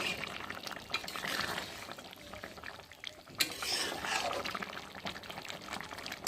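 A bottle gourd curry simmers faintly in the pot as a spoon stirs it after sugar is added, with a gentle wet sloshing and one sharp knock midway.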